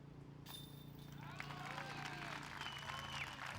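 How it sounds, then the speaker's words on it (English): A crowd at a women's disc golf chase final in Estonia cheers and claps for a putt, a faint distant swell of applause building from mid-clip with voices mixed in. "Great crowd pop"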